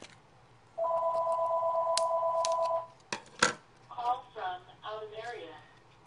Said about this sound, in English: Oh, there goes the phone.